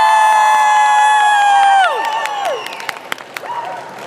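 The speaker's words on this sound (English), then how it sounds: "give me a cheer." A large fan-convention crowd in Brussels cheers and applauds for Star Trek actress Nichelle Nichols. Loud, sustained cheering with shrill whoops fills the first two seconds, then fades into scattered claps and shouts.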